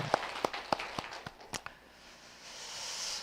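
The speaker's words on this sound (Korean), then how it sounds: "하나님께 감사의 박수 올려드리겠습니다" During a Sunday worship service, a few sharp, separate hand claps ring out in a loose rhythm in a reverberant church hall, then thin out and give way to faint background hiss.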